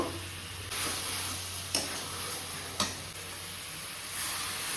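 Potatoes and young jackfruit stir-fried with spices in a home kitchen, a steady close sizzle with a few sharp scrapes of stirring, no voices over it.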